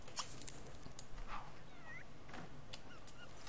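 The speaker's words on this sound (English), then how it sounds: "There's a cat sleeping outside there." A cat in The Sims 3 meows a few short times, brief mid-pitched calls scattered over a quiet game ambience with no talking.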